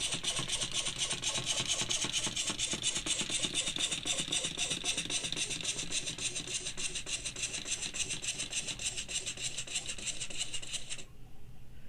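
Wind-up toy robot running across a surface after release, giving a steady, fast whirring and grinding buzz of its spring-driven gears that holds evenly for about eleven seconds, then stops abruptly.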